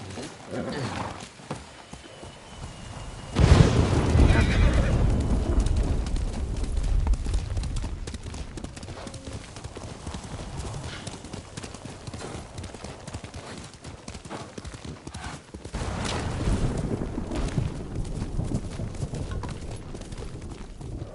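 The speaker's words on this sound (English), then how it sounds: "Horse!" Horse hooves clip-clop and gallop in a Ghost of Tsushima-style samurai video game, with a loud burst of hoofbeats near the start, then steady running under game dialogue and ambient sound.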